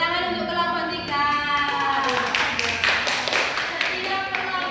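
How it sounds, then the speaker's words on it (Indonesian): Fourth-grade class clapping for a group during a civics lesson, a quick run of steady claps that builds after a second or two, with a voice over it at the start. "beri tepuk tangan untuk kelompok 3."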